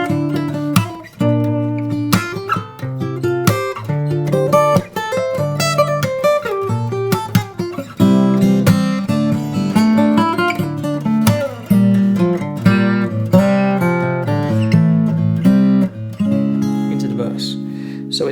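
A fingerstyle acoustic guitar plays an unplugged solo: a continuous run of crisp plucked melodic phrases over low bass notes, close and clear throughout.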